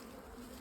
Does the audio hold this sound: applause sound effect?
no